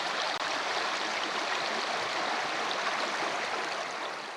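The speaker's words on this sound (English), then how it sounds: "listen to the running water as it was flowing down the Nelson River" The Nelson River in Tasmania rushes in a steady, loud, continuous flow, close by and with no other sounds on top.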